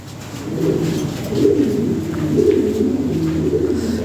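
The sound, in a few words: Lahori pigeons cooing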